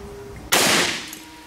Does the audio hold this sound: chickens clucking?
no